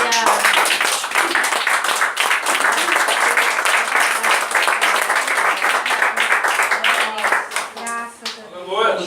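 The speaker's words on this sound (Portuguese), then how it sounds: "Pode sentar e aplaudir a Jesus com alegria." Evangelical church congregation applauding with joy during a communion service, sustained dense clapping filling the room, with voices mixed in and cheering near the end.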